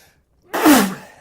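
A single loud sneeze bursts out after a moment of near silence, sharp at the start and trailing off quickly.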